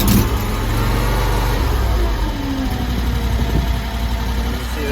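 The small engine of a Chinese mini stand-on skid steer loader starts and runs close by, a loud steady idle that rises briefly with a little throttle and then settles back into a constant rumbling drone.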